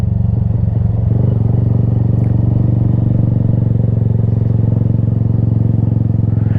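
A motorcycle rides along in second gear, its engine holding a loud, steady low drone with a continuous harmonic hum and no speech over it.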